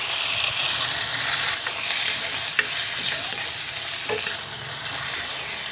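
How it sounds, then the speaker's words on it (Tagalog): Chicken livers pan-fry with a steady bright sizzle and crackle, scattered small pops and a faint scrape of stirring close by, with no talking. "Now ay bahagya ko lang ipapan-fry itong chicken liver."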